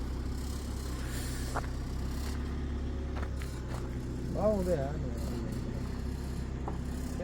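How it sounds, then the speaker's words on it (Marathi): A car's engine hums low and steadily while it is squeezed into a tight spot on a cold, snowy mountain road near Madmaheshwar Temple, with people talking over it throughout. "गाडी लावायला खूप स्ट्रगल आहे इथं"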